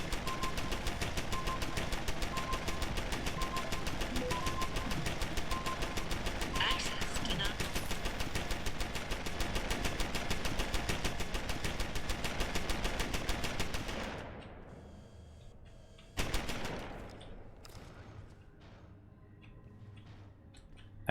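A turret machine gun fires in a sustained, loud, rapid stream of shots in the video game Deus Ex: Human Revolution, then stops abruptly, followed by a couple of sharp bursts and quieter sounds.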